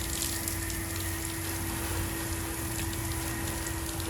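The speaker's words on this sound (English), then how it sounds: "You're gonna rinse the windows really good." Water spray rinsing the windows of a house during a pressure wash job: a steady, dense hiss and splatter with a constant pump hum underneath, close and uninterrupted for the whole span.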